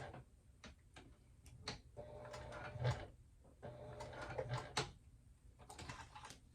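A sewing machine runs short bursts of back stitches while a clutch wallet is sewn, giving quiet rapid ticking runs separated by brief pauses, close up and without talk.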